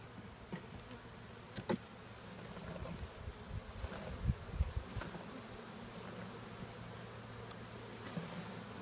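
A large honeybee swarm of roughly ten thousand bees buzzes steadily throughout, a dense, faint drone with a few louder passes as individual bees fly close by, and no voices.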